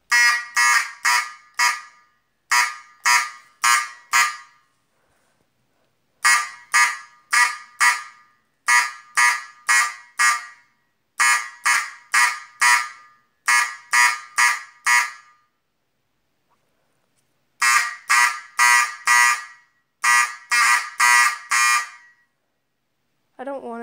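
Fire alarm horns in a system test pulse code 4444, groups of four loud buzzing blasts separated by short gaps, repeating steadily, with a brief pause partway before the pattern resumes.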